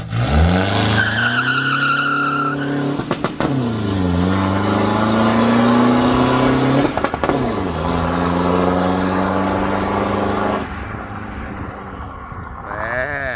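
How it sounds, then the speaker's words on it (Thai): An ECU-tuned Toyota Revo pickup launches in first gear, its engine note climbing steeply and loud, dropping sharply at a shift, then climbing again before easing off near the end. "เบรกมือลง ใส่เกียร์หนึ่งพร้อมแล้วปุ๊บ"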